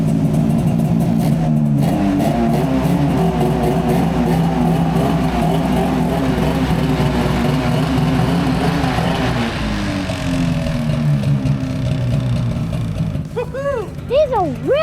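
Snowmobile engine running loud and close, a steady high-pitched drone with shifting revs that dips midway and climbs again, with rising whine sweeps at the end, set in deep fresh powder snow.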